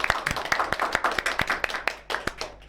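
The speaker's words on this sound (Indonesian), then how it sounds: "Tepuk tangan dulu dong." An audience clapping at a school podcast event, a small crowd giving brisk, even applause with distinct individual claps, close and steady throughout.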